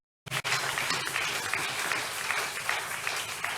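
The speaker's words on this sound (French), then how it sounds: "On applaudit pour le Seigneur." A church congregation bursts into applause after a moment of silence, loud and sustained, with dense clapping that settles into a steady roar.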